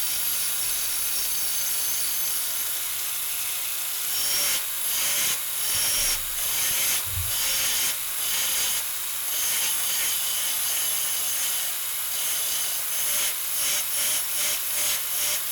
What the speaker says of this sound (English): Now I just ran it over to the belt grinder just to make sure the tips of the drift are nice and rounded.